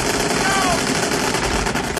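Heavy automatic gunfire from a Full Metal Jacket war movie scene plays as dense, loud, rapid bursts. It fills the whole moment without pause, with possible voices faintly underneath.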